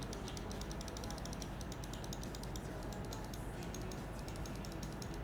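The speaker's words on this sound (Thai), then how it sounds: "เดี๋ยวเราฟังเสียงคลิกกันครับผม นี่คือคลิกซ้ายนะฮะ" Left button of a Corsair Gaming Katar mouse clicked over and over, a fast, even series of sharp, quiet ticks close to the microphone, continuing throughout.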